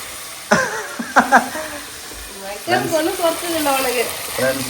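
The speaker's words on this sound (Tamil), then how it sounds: "இஞ்சி பூண்டு பேஸ்ட் ஊத்துவான்னு பார்த்தா ஜூஸ் ஊத்துறேன்" Loud sizzling and crackling from a hot pan, rising as ginger-garlic juice hits the oil, with stirring noises and a voice speaking briefly.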